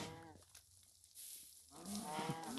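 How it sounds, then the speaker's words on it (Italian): Cows moo in Minecraft, a couple of loud drawn-out lowing calls with harmonic tones near and far, set apart by a brief quiet gap. "Allora, mucche."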